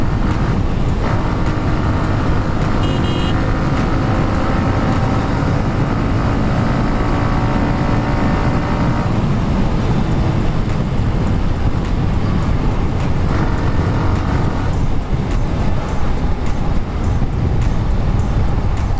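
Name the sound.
Hero Xtreme 125R motorcycle accelerating and downshifting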